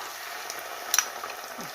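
Onion and tomato paste sizzle and crackle steadily in a hot pan, close up, with a brief scrape of stirring partway through.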